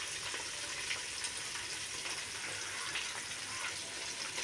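Okra fries with ginger-garlic paste and spices in a hot pan, giving an even, dense sizzling hiss throughout with faint crackles and no talking.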